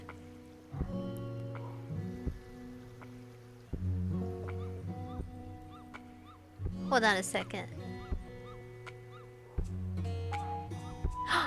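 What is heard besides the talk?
small neighbor's dog barking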